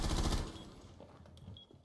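SMG-12 submachine gun fire in the video game Rainbow Six Siege: a short, loud, rapid burst of automatic shots up close, then fading into echoing tail and low game ambience.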